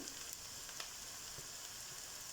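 Onions sizzling in a pan with cumin added, a steady frying hiss with small crackles and occasional light stirring clicks, close and unbroken.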